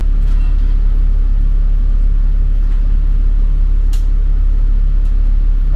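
Inside a vehicle on the highway, a loud, constant low rumble of engine and road noise holds steady throughout with no break.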